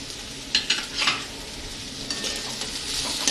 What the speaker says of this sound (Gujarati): બધા મસાલાને બરાબર મિક્સિંગ કરી લેવાના.